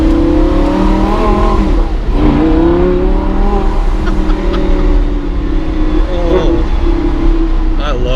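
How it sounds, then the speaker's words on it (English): Heard from inside the cabin, the V10 engine of a Lamborghini Gallardo drones and revs steadily, its pitch rising and dipping as it accelerates, with people talking over it. "Oh, but the sound of the V10."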